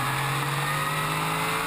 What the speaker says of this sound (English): We're on board here with Greg Thornton in the Chevron B24.